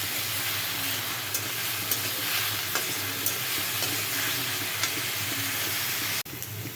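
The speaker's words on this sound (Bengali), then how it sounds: "এটাকে আমি একটু ভাজা ভাজা করব।" Salted, turmeric-seasoned vegetables fry in a pan for a roti sandwich, a continuous close crackling sizzle dotted with light stirring taps that cuts off abruptly near the end and then resumes more softly.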